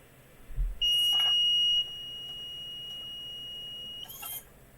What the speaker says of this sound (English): once I put my hand in it, and you can see the numbers, our buzzer starts to ring